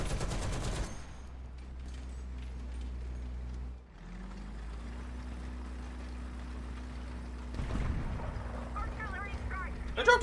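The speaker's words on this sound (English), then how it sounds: "Artillery strike! They dropped artillery on me?" Artillery shells land near a player's tank in a video game, a loud crash at the start and more rumbling impacts later over a constant engine drone, while a voice talks.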